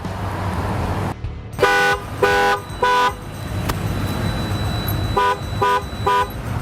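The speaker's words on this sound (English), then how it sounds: "That alarm that just went off is a temperature gauge for the dog that lets me know that it's too hot inside the vehicle." Border Patrol K-9 vehicle temperature alarm sounding in pulsed bursts like a car horn, a group of three loud honks then a quicker group of three, over a steady engine rumble.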